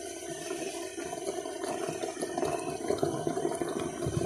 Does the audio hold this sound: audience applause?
no